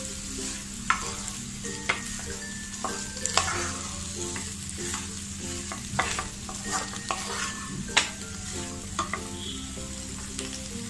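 Hand-crushed potatoes stirred into a spiced samosa filling in a hot pan after chilli powder, giving a steady close scraping and stirring with a soft sizzle and frequent sharp utensil clacks against the pan.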